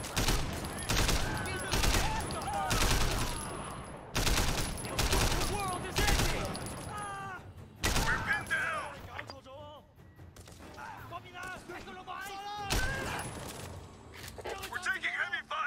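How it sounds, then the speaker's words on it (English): Heavy bursts of automatic gunfire from a Sleeping Dogs firefight rattle loudly in repeated volleys with short pauses, joined by shattering impacts, while a voice talks over parts of the action. "We're taking heavy fire."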